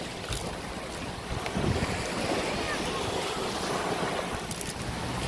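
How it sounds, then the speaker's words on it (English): Waves breaking on Fort Myers Beach, a steady broad wash of surf close by, with wind buffeting the microphone throughout. "It deflects a lot of the sound coming from the waves breaking"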